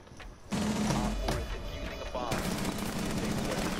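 Gunfire in the video game Rainbow Six Siege: a burst of close, sharp gunshots followed by continued rapid firing, with a voice talking over the action.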